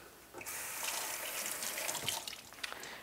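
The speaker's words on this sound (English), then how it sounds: "And all you do with these is get them wet" A magic eraser sponge is held under a running kitchen tap, a soft, steady hiss of flowing water with splashing changes as the sponge is wetted, fairly quiet and close.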